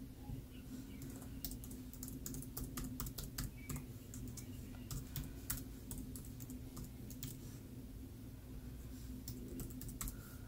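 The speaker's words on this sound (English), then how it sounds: "I gotta type this shit in, so that's why I'm not talking" Someone types steadily on a computer keyboard while logging onto Wi-Fi at a campsite, producing a close, continuous run of quick clicking keystrokes over a faint low background hum.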